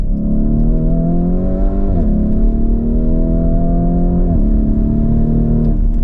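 Lamborghini Urus SUV accelerating hard, its loud close engine note climbing steadily through the revs, with three gear shifts briefly dipping the pitch before it pulls again.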